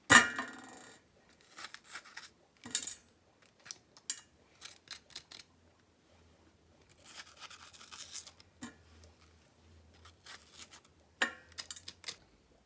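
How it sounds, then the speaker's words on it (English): A knife slicing bell peppers lengthwise into strips on a cutting board, giving short, irregular crisp cuts and taps with quiet gaps between them, close and fairly soft, with no talking. "Then I'm going to cut the long way, like this size, not very thick, not very thin."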